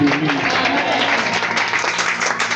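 A church congregation at a worship service applauding together in dense, sustained clapping that fills the room, with voices calling out beneath it, loud and continuous throughout.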